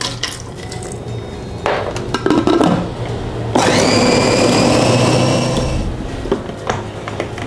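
A food chopper whirs loudly as it blends fish dough of ground mackerel with ice water for siomay, a steady motor drone rising in bursts with some clattering and running water in between.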